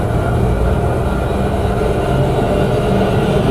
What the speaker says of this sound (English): Then you got your typical riser.